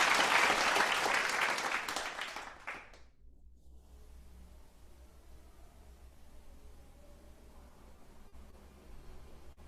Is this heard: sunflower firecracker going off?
no